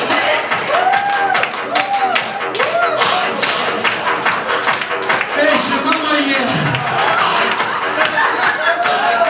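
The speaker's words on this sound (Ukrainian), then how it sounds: "тож давайте оплесками зустрінемо" A crowd applauds to welcome a performer onstage at a festive Ukrainian holiday show, with dense, steady clapping that fills the whole stretch and cheering voices and chatter mixed in.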